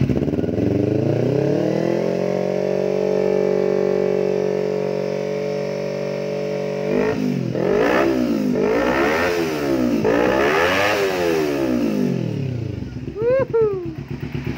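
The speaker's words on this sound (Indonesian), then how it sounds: "Dung-dung-dung-dungnya, ciri khasnya Ninja Karbu, bro." A carbureted Kawasaki Ninja two-stroke motorcycle engine idles steadily up close, then is blipped through several rising and falling revs before easing off, with a brief higher whine near the end.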